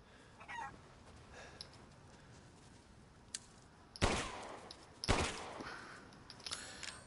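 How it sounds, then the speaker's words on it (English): Chickens in the video game Resident Evil Village give scattered clucks and squawks, followed by two sharp, loud impact bursts and some lighter clatter in a quiet game scene. "chickens."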